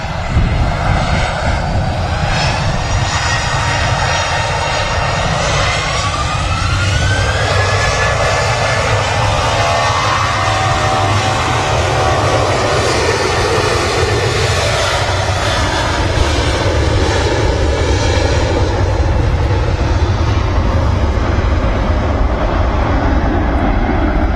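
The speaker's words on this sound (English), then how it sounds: "Again, possible rolling start from the Jet 2 here." Jet2 Boeing 737 airliner making a rolling-start takeoff at Manchester Airport, its jet engines a loud, steady roar with a rising whine, sustained throughout.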